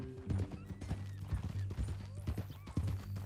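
Horse hooves clip-clop on a trail in Red Dead Redemption 2, a steady rhythmic patter of steps near and fairly loud, mixed with low game ambience and a brief whinny.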